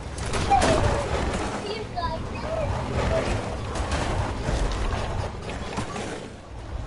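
Video game gunfire crackles in scattered bursts and volleys among mechanical clicks and creaks, with excited players talking over it throughout.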